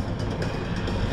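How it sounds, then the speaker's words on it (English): Roller coaster train at Sea World San Diego climbing the lift hill, a steady rumbling mechanical clatter heard from a distance, continuous and even throughout. "that's the train's going up there right now"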